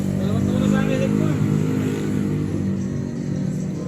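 A motorcycle engine rumbles and revs steadily nearby in Kabanatuan, with people talking over the continuous low drone.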